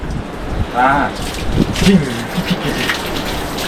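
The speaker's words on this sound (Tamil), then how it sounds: "இது என்ன தண்ணி வருது தண்ணியா" Water from an outdoor beach shower splashes and patters steadily like heavy rain on a surface, fairly close, while people talk over it.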